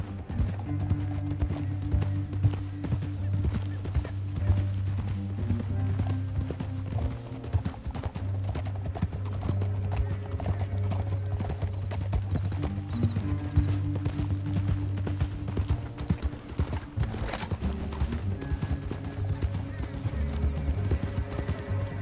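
Horses in Red Dead Redemption 2 clip-clop at a steady galloping rhythm through a canyon, with hooves loud and continuous and a faint game voice underneath.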